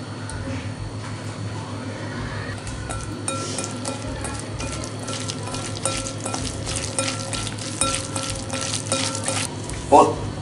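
Egg and flour mixture for egg 65 stirred in a bowl, with steady wet scraping and clinking running throughout over a constant background hum.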